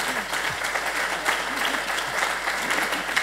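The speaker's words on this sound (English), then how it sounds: "Please clap." An audience at the DLD Europe conference in Bavaria applauds in a dense, even burst of many hands clapping that carries on for over three seconds at a moderate, steady level.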